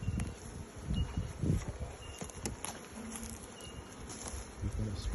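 Honey bees buzz around the entrance of a newly split hive box, a faint, steady hum with scattered rustles and handling noises nearby.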